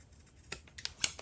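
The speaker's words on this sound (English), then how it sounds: "go ahead and snip, cut that zipper, and then go ahead and trim off the extra parts of the tab." Scissors snip through the fabric and zipper of a sewn triangle pouch, four or five quick sharp cuts spaced out over a quiet background.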